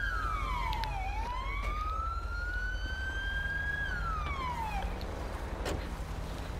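A video-game police car siren wails in a single long rising and falling sweep, steady and clear over a low engine hum, fairly loud and close.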